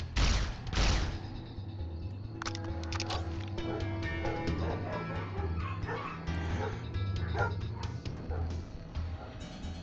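Dogs bark and yip in the video game Fallout: New Vegas, several loud sharp barks up front and then a busy run of yelps and whimpers over game noise.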